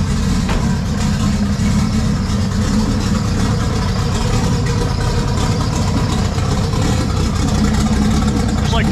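A home-built engine idles just after starting, a loud, steady low rumble that holds unbroken throughout, close to the listener.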